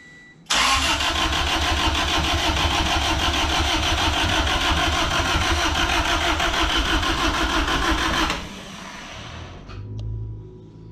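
A rebuilt Honda D16Z6 engine cranks and fires, then runs loud and steady with a fast rhythmic pulse for about eight seconds before being shut off, leaving quiet rumbling.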